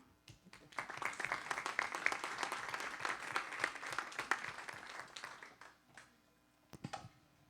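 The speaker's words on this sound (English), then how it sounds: "let's give these guys a little round of applause" Faint, steady audience applause for a group of students carries on for several seconds in a hall, tapering off at the end with a few scattered claps.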